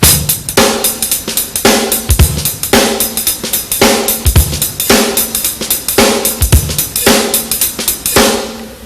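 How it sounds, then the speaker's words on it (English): A drum kit plays a steady jazz-flavored groove, crisp cymbal and hi-hat strikes over punchy kick and snare hits in a repeating rhythmic pattern. "you could take the jazz beat and apply it to some contemporary nice grooves"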